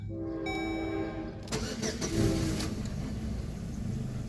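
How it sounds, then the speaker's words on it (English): Train going by near a 2001 Chevy Cavalier LS, with a sustained horn blast at the start giving way to a loud, steady rumble of passing rail cars that lasts to the end. "Here comes the train."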